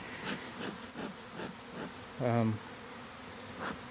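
Bees buzz steadily around a swarm, a low droning hum with brief louder whirs as individual insects pass close by.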